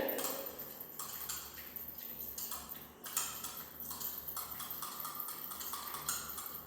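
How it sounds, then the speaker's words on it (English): Egg filling for a coffee-house style sandwich is whisked in a bowl, a faint, steady run of quick clinking taps and scrapes of the whisk against the bowl. "So I am whisking it properly"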